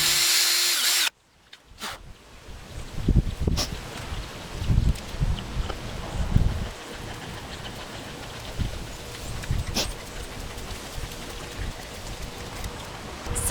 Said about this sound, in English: now I'm going to take my drill and we're going to do pilot holes